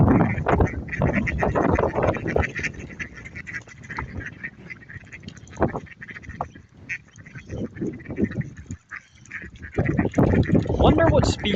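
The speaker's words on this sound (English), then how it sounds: "Wonder what species little white seabirds are." A flock of small white seabirds calls in a busy, continuous chorus of honking, squawking cries, loud and close, with a person talking intermittently among them.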